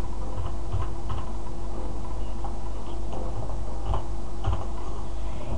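Computer keyboard keys tapped out while entering a password, a steady run of light clicks and soft thuds close by, with no voices.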